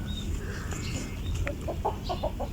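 Free-roaming chickens out on grass give a run of short, quick clucks over a steady outdoor rumble, with no talking.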